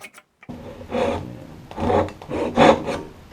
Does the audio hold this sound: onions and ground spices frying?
no